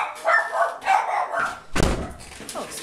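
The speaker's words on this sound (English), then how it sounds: "And there goes my dog." A pet dog indoors barks a couple of times at neighbors moving in outside, followed by a heavy thump like a door, with some talk around it.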